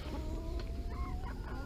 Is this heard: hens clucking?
yes